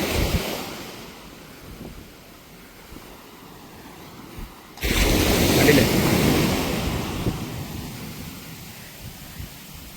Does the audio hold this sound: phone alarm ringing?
no